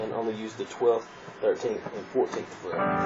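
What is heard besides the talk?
No distinct noise like a dog, phone or traffic.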